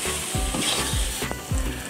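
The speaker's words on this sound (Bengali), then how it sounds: "আলুগুলোকে আমি এবার এই মশলার সঙ্গে আরও কিছুক্ষণ কষিয়ে নেব, খুব সুন্দরভাবে কষিয়ে নেব।" Fried potatoes sizzle steadily in a spice masala for a Bengali katla fish curry, with periodic scraping strokes of a spoon stirring them, close and fairly loud with no talking.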